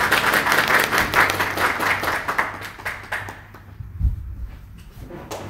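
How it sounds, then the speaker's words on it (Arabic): An audience claps loudly for Ahmed at a gathering, a dense burst of applause that thins out and fades toward the end, with a thump near the close. "نطلب منكم تصفيق على احمد الريبي"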